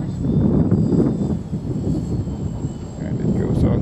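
An ArduCopter drone flies and climbs over ice, giving a continuous buzzing rotor drone of steady loudness that is heard through light wind noise.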